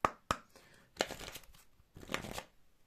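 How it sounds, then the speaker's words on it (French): Tarot cards from an Akashic tarot deck are handled and drawn, giving two sharp snaps followed by longer papery slides and shuffling rustles, close and quiet. "Je tire une carte et je fais la lecture."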